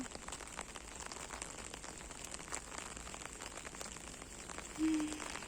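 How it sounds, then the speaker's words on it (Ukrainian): Steady rain falling on a surface, a constant hiss with soft scattered drops, evenly spread throughout and fairly quiet. "Ліє дощ"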